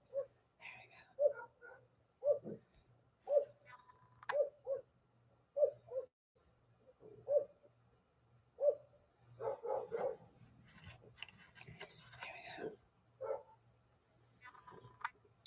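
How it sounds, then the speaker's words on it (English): A dog barking in a backyard, sending out a series of single woofs in an irregular rhythm at moderate distance, later a busier stretch of overlapping barks, with a steady low hum underneath. "So now he's going to get Dallas in the backyard stirred up because Dallas can't see what he's barking at"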